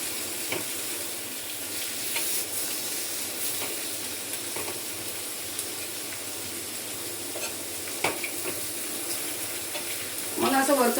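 Bitter gourd roasting in a pan gives a soft, steady sizzle and hiss, close and fairly quiet, with a few faint clinks and a brief watery splash near the end.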